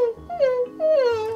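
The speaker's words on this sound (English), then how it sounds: "you're not gonna whimper your way out of this one" A dog whimpers in two drawn-out, wavering whines that rise and sag in pitch, each one close and fairly loud, with a short break between them.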